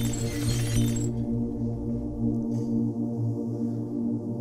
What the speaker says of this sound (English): he falls to the floor and the glass bottles come crashing down